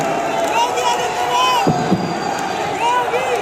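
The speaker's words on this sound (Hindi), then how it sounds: "जोरदार तालियों से स्वागत करते हैं माननीय मुख्यमंत्री जी" A crowd at a government ceremony for a solar manufacturing plant applauds and cheers to welcome the chief minister, a steady wash of clapping and voices with a couple of sharp thumps.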